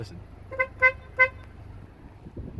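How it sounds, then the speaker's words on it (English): Horn of a 2018 Honda Accord, three short honks close together, the second and third a little longer, over a quiet low background hum. "I wanted to mention the horn. You can't make it up. Listen."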